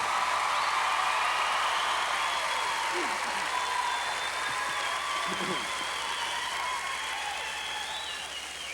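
Applause from a live country music audience in Kansas City for the band, a broad sustained clapping wash with faint tonal hum and brief murmurs of voices underneath, holding fairly steady throughout.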